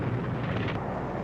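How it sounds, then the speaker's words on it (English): Heavy wartime bombing at Corregidor, a continuous deep rumbling roar of exploding bombs with dense low-end energy, sustained and steady throughout with no distinct individual blasts. "The Japs are bombing us from outside."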